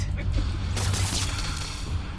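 An explosion in the Marvel's Spider-Man video game, a dense roaring blast under a steady low rumble of game audio, loud and sustained.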